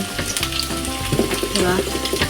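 Dried smoked fish (tinapa) sautéing in a pan for low-budget palabok, giving a steady close sizzle with brief clattering stirs and no talking.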